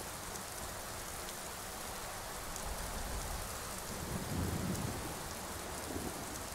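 Rain and thunder in the video game Skyrim: a dense, steady rain hiss with a low rumble of thunder swelling in the middle, continuous and alone without talk.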